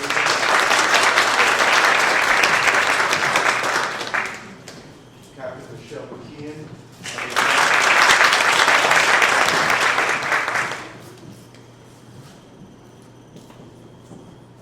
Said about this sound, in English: Councilwoman Robles, round of applause.